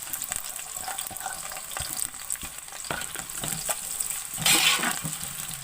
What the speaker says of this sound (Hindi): अब मैं प्याज को ब्राउन कर लूँगी